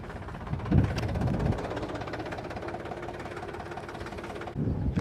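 A farm tractor fitted with oversized monster tyres turns slowly, its engine chugging at a steady low idle with a few brief knocks and thumps near the start and end.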